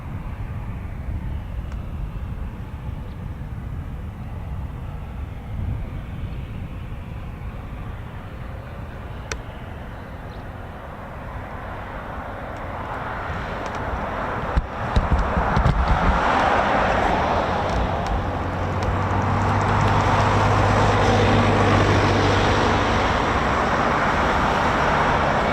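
CV-22 Osprey tiltrotor with Rolls-Royce T406 turboshaft engines on approach, a broad roaring engine drone that builds steadily and grows loud in the second half, with wind buffeting the microphone.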